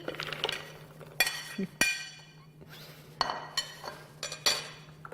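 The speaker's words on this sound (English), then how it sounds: "I'm going to add the cranberries. Now these happen to be frozen." Frozen cranberries tumbling into a dish give sharp, hard clinks and clatters in a few separate bursts at close range, fairly faint against a steady low hum.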